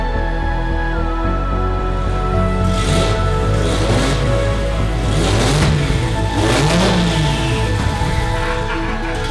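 A GT-R RB engine swapped into a Nissan 240Z Fairlady cold-starts and idles high, loud and close, with rising and falling revs and a steady exhaust drone throughout.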